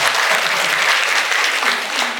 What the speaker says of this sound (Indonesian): Boleh berikan tepuk tangan yang paling meriah Bapak Ibu semuanya